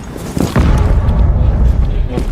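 A frag grenade going off in the Rainbow Six video game: a heavy, deep boom that swells after a short lead-in and rumbles on loudly for about two seconds, with voices underneath.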